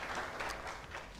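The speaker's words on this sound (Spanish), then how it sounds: "les pido un aplauso para ellos tres" Audience applause at a book launch for a novel, a soft, distant patter of many hands clapping steadily throughout, fairly faint with no voices over it.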